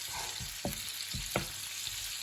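Ham fries in a pan with sauce, a steady close sizzle with a few soft stirring clicks and scrapes mixed in.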